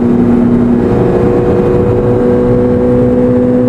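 A Corvette C8 Z06 fitted with a new exhaust roars in a loud, continuous, close-up drone with a steady low tone; no distinct pops stand out.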